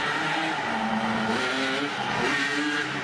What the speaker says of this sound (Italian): Vedere dalla finestra qualcuno che gira tutto il giorno in tondo con il quad dà fastidio